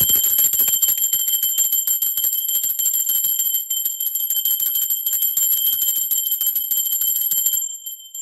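A bell rings over and over for about seven and a half seconds, a steady bright metallic ringing with sustained high tones, loud and alone, and it cuts off cleanly near the end.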